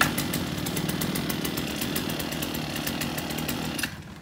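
A petrol brush cutter engine runs at a steady, buzzing two-stroke idle, loud and close, then cuts off abruptly near the end.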